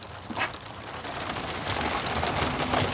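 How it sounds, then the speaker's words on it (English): Rain falls on an RV in a steady, dense patter that holds even and close throughout, with no voices over it. "Rainy days in the RV are fun."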